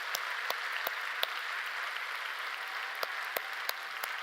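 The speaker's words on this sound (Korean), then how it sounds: "우리 중고등부로에서 박수 한번 치겠습니다" Congregation clapping during a Friday night church worship service, a soft continuous patter of many hands with a few sharper individual claps standing out, fairly faint and without talk.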